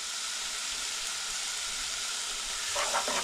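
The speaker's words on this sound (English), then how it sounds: "fry these onions off" Finely chopped onions and garlic frying in a pan, a loud, continuous hissing sizzle with a brief stir toward the end.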